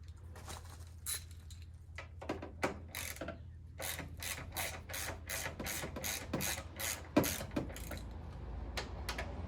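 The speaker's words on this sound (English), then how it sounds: "just keep your finger behind the ratchet so that when you're undoing the screw, you're not scratching the paint" A ratchet clicks in rapid bursts while undoing bolts on a truck, the sharp metallic ticks repeating in quick runs close by, with short pauses between strokes and no talking.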